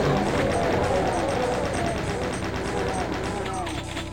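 A chain gun fires in rapid sustained bursts in Doom, dense and loud, with game noise and a voice talking over it.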